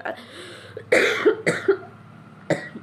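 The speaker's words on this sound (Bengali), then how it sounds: "ভিডিও করার জন্য কাশছি, মানুষ দেখবে ঠান্ডা লেগেছে কাশছি" A person coughs in several sharp, close bursts: one strong cough, two quicker follow-ups, and a final cough after a short pause.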